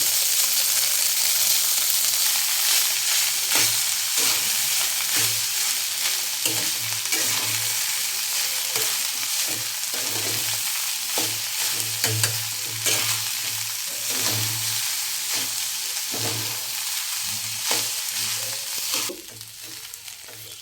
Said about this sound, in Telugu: ఈ చల్లారి పెట్టిన రైస్ని ఇలా విడివిడి చేసుకుంటూ వేయాలి.